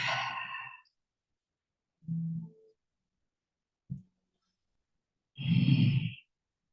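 Slow, deep breaths during a yoga pose: a long exhale, a softer breath, a short sniff and a final full sighing exhale, separated by silent pauses and heard close up.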